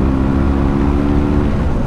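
A 2012 BMW R 1200 GS Triple Black motorcycle cruising at about 100 km/h in sixth gear on a highway, its engine a loud, steady low drone with heavy wind rush, heard close from the rider's position without talk.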